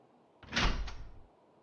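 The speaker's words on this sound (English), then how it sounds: "Wait, I think the door just unlocked." In the video game Zombie's Retreat, a locked door unlocks with one mechanical clunk and a brief rattling slide, close and moderately loud, lasting about a second in an otherwise quiet scene.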